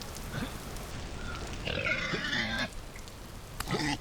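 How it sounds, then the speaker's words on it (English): Warthogs in the video game Vintage Story grunt and squeal in a few rough, pig-like bursts, one longer harsh call in the middle and another near the end, fairly close. "We've got a couple of warthogs here."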